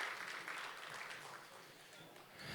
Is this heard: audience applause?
yes